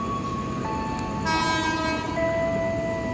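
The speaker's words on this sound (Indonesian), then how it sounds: "Ini ada lokomotif pulang depo." A locomotive pulling train cars heads back to the depot in the early morning, its horn sounding in long sustained tones over a steady, loud rumble of rolling wheels and rail noise.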